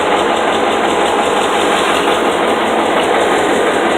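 Vintage 1974 International track loader's diesel engine runs steadily after a cold start, a loud continuous clattering rumble close by, burning old diesel fuel.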